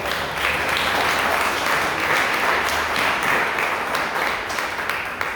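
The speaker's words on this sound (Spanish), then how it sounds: "Demos un aplauso al Señor." A church congregation claps continuously in a dense, steady burst of applause filling an indoor space.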